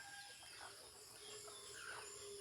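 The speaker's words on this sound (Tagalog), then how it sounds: "Gatuwa og manok." A rooster crows against a steady outdoor background hiss in a rural Philippine province, the call rising and falling in the middle distance.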